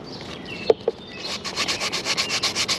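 Plastic car trim being sanded by hand with 400 grit sandpaper ahead of painting: a few sharp knocks first, then steady rhythmic back-and-forth rasping strokes, close and fairly loud, with no talking.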